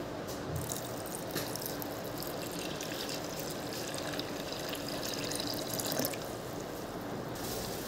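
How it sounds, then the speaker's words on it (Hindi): Water pours steadily into a cooking pot over beetroot for juice, a continuous wet splashing with faint drips and clinks, fairly quiet and alone without speech. "इसमें 1 लीटर मैं पानी डाल दूंगी।"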